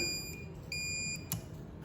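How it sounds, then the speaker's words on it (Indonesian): A thin, high electronic buzzer tone driven by a PLC push-button output sounds steadily, faint, with a couple of brief clicks along the way. "Ya, buzzer berbunyi."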